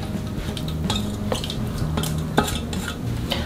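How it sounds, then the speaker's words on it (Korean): Yeolmu kimchi ingredients are mixed by hand with cooled rice paste, giving wet squelching stirs and a few light clinks from a bowl, close and steady. "아까 풀 써놓은 거 있죠? 풀 쑤어서 식혀 놓았고요. 같이 다 넣어서 같이 섞어주세요."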